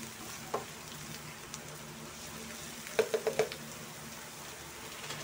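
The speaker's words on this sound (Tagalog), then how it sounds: "lagyan na natin yung ating onion or sibuyas guys. So, lutuin lang natin ng konti." Onions fry in a pan for pork sisig, giving a quiet, continuous sizzle broken by a few sharp clinks and scrapes from stirring.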